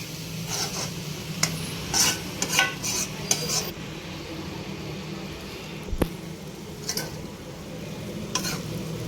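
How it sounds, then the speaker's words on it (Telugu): Ponnaganti leaf greens fry with chili powder in a pan, a steady sizzle with repeated scrapes and clinks of a spatula stirring against the metal, close and alone with no talking. "కారం వేగే వరకు బాగా వేయించుకోవాలి"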